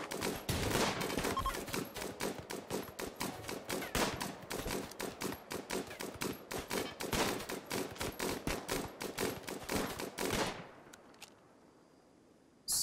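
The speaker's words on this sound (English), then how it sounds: "Neither of these guys are good at shooting." Rapid bursts of gunfire from the Rimworld video game crackle almost without pause for about ten seconds, loud and dense like a fusillade, then cut off abruptly into near silence.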